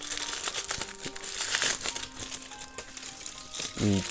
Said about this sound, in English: Just see if there's a way I can kind of unwrap some of it.